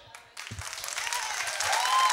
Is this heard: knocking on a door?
no